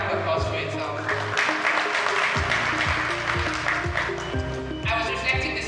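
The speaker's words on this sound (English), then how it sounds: "A round of applause for yourself." Audience applause at a hospitality industry event, clapping from a room of people heard under loud music with steady tones, continuing for several seconds.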